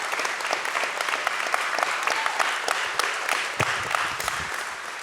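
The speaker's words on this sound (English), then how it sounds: "Would you give her a warm round of applause?" Warm audience applause at a high school choir concert, dense and even clapping from a crowd that carries on steadily throughout.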